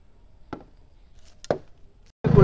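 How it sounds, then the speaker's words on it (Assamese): A blade chops into bamboo stalks in a village garden, with two sharp, separate strikes about a second apart, followed by a loud burst of rustling and crackling as the cut poles shift. "এতিয়া কাটি আছোঁ বাঁহ"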